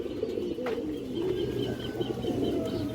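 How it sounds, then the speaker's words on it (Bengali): A red chulli female pigeon from an old breeder line coos softly and steadily, its low repeated calls carrying over a constant background murmur with no talking. "একদম পুরান ব্রাডারের একটা লাল চুল্লি মাদি কবুতর দর্শক।"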